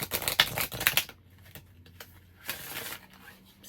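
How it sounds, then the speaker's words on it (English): A brand-new tarot deck, seal just broken, is gently shuffled by hand: a few quick riffling bursts of card flutter near the start, then softer scattered taps and rustles. "We'll give this a little gentle shuffle."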